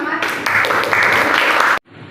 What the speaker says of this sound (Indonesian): Tepuk tangan buat Ustadz Rahmat.